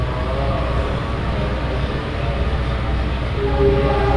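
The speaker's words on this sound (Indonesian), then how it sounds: "Oh ya, di depan ada kereta." A loud, continuous low rumble of a passing train, steady and close with a droning mechanical tone throughout.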